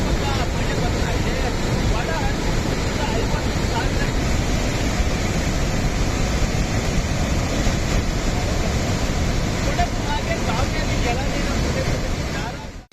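Kaveri river water roaring over the rocks at Hogenakkal falls in high flow, a loud, unbroken rushing wash with wind buffeting the microphone, continuous and close.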